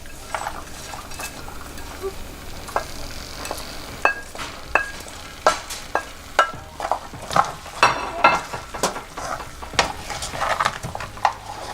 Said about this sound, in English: I'm going to give that a good mix for about 30 seconds.